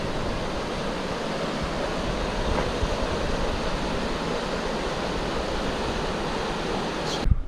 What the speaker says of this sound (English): Next to our campsite, we have Early Winter Creek.